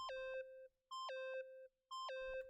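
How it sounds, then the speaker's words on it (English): Electronic beeping from the video game Danganronpa Trigger Happy Havoc: three identical bursts of rapid stepped tones, each about half a second long, spaced evenly with short silent gaps. "Stop this gosh dang beeping and say something."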